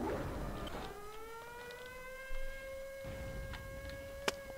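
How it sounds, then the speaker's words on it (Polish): A siren in the video game Blood wails steadily in the background, its tone rising then holding, with a sharp click partway through. "Znowu jakieś te syreny."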